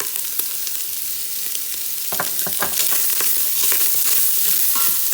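Sausage sautéing in a pan with salt, pepper, garlic and onion powder, a steady close sizzle with several sharp stirring scrapes and clicks from about the two-second mark on.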